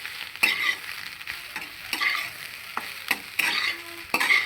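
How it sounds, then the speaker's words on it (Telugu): Shredded cabbage frying with garlic and chili powder on low heat, crackling and sizzling under repeated spatula stirs and scrapes against the pan, close and moderately loud, with no voices. "కారం వేసిన తర్వాత ఒక రెండు నిమిషాలు సిమ్లో పెట్టేసి వేయించుకోవాలి కారం పచ్చి వాసన పోయేదాకా"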